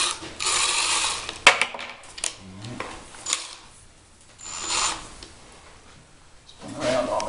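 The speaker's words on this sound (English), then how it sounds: "we're going to have to back this screw out here" A screw being backed out during a ceiling fan installation gives quick ratcheting, clicking mechanical bursts at close range, interspersed with quieter pauses and someone talking.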